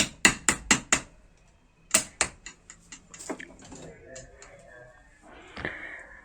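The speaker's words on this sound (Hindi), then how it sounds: "थोड़ी सी इसको ठोक करके हम अंदर तक बैठाल देंगे।" A hammer strikes a tight-fitting part to seat it inside a Dongcheng DZC03-38 demolition hammer during repair: a quick run of four sharp metallic blows, a pause, then further lighter taps and knocks, close and clear.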